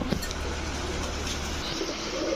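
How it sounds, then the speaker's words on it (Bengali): Saharanpuri pigeons coo softly in a short burst, one low rounded call near the start against a steady background hiss, faint and close by. "একেবারে ক্রিম চোখের কবুতর"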